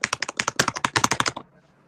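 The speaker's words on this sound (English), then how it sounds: "Well, that was some aggressive typing." Fast, forceful typing on a computer keyboard, a dense burst of sharp, loud keystrokes in quick uneven rhythm that stops abruptly, leaving quiet room tone.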